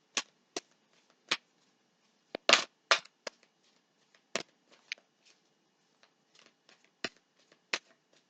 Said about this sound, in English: let's give the good tarot a couple shuffles